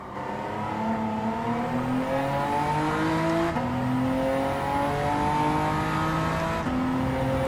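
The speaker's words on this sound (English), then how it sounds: "A little bit early going down second gear there." Race car engine in Gran Turismo 7, a GTO, downshifting into second gear: a steady tonal engine drone whose pitch climbs, then drops sharply at each gear change, repeating across the run, loud and continuous.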